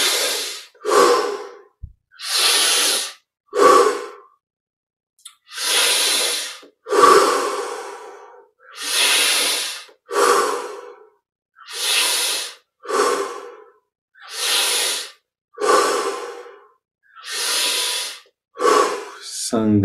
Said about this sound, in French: On augmente l'amplitude de chaque respiration.